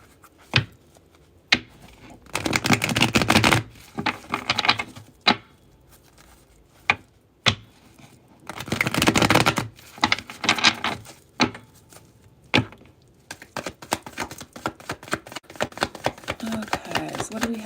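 Tarot cards are shuffled in bursts of rapid riffling and slapping, separated by sharp single taps and quiet pauses, with occasional talking.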